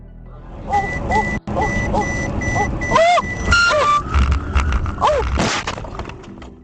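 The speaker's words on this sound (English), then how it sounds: "Despite of a system warning for collision" Repeated electronic collision warning beeps sound inside a Mercedes GLC, tones rising and falling over a steady road hum, with a sharp thump partway through as the car crashes into a bus.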